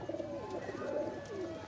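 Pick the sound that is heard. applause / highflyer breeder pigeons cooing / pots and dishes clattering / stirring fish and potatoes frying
highflyer breeder pigeons cooing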